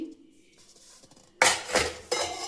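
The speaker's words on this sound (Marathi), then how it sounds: "चमचा आणि मग घेणार आहे मी मिरची तळायसाठी फ्रायदान आणि सांडग्याची भाजी बनवायसाठी" A metal spoon and a frying pan clatter in a home kitchen as they are set out for frying chillies and cooking a sandge vegetable dish. Brief quiet handling gives way to a few loud, close clanks and scrapes.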